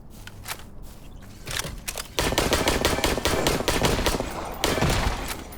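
Rapid automatic gunfire in the video game Dysterra, a dense string of sharp, loud shots in quick bursts over several seconds, close and unbroken by talk.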